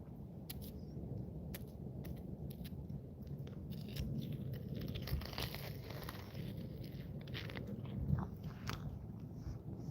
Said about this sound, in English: let's see if we can get ASMR crunch for the folks.